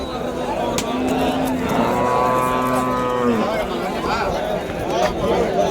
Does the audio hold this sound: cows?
yes